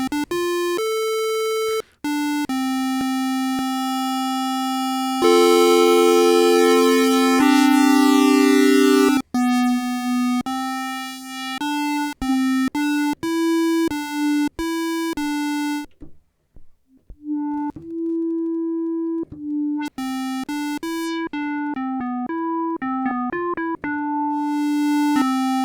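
Arturia PolyBrute synthesizer playing a run of sustained and short tones whose timbre shifts partway through as the morph blends toward a different sound, bright and loud with brief gaps, no voices.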